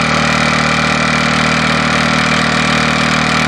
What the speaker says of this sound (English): Really goes well, this little engine, really going well.